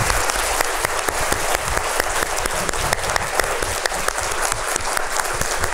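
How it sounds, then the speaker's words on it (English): A symposium audience breaks into sustained applause after an interview, a dense, steady roar of many clapping hands with no pauses. "would you please just join me in giving another round of thunderous applause to them?"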